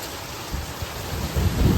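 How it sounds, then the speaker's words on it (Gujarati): Hailstones pound a roof during a summer thunderstorm in Junagadh, a dense, continuous roar that swells louder toward the end, with no voices. "ઉપર કરા પડે કઈ અવાજ આવે જો"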